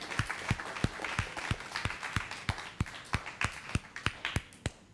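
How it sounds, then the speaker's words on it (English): Rhythmic audience clapping at the closing of a Bangkok tech summit; sharp, evenly spaced claps about three per second, as if a group is clapping in unison, fairly close and moderately loud. "big round of applause for all the sponsors"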